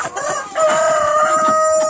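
Chickens in a poultry yard cluck and crow loudly and close, a rooster's call rising over steady hen clucking.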